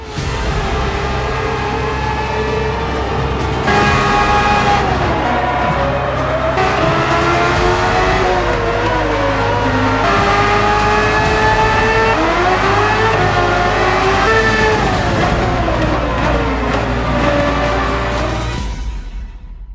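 A 90s Formula 1 race car engine in Gran Turismo 7 at Yas Marina screams loud and close, revs rising and falling through gear changes in a continuous high-pitched wail before cutting off at the end.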